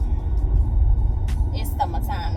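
A road vehicle rumbles past close by, its low engine drone steady throughout, while people talk over it near the end.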